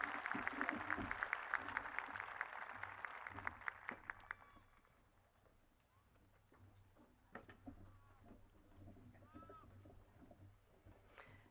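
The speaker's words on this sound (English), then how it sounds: "We applaud all of our high school graduates and acknowledge their hard work during high school." Audience applause fills a high school graduation ceremony, dense and loud for the first few seconds before fading into scattered claps and a quieter crowd murmur.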